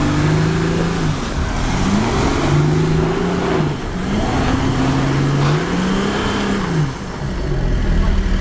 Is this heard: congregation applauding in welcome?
no